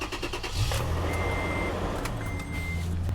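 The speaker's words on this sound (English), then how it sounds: "So we hit enter and I'll start cranking." A car engine cranks during a battery cranking test, a steady low mechanical churn running through the clip with a faint electronic tone above it, close and even in level.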